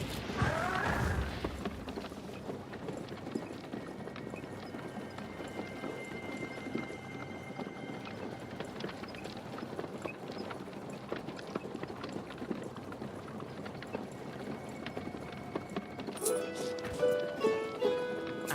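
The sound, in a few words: horse-drawn carriage driving away, from a video game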